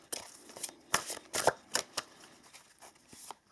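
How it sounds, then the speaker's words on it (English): Oracle cards are shuffled by hand in a quiet room, a soft papery riffling with several brief, crisp flurries close to the microphone. "we're going to pull a couple of oracle cards here for you as well"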